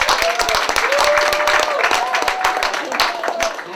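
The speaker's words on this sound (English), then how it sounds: "Let's give him a big round of applause." A room of people applauds the general manager of the Boulder co-operative market as he is introduced, close, sharp clapping spread across the crowd, with a voice and brief tones heard over it.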